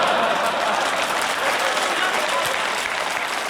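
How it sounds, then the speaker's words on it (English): A crowd at a speech breaks into steady, dense applause and cheering that carries loud and unbroken from start to finish. "And the crowd's cheering for that?"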